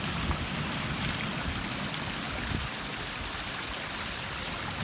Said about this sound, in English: Found a pretty little frozen creek.